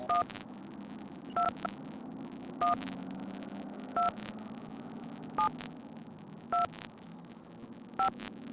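Telephone keypad tones sound in a Nancy Drew video game, seven short evenly spaced beeps over a soft steady hum, with no voices.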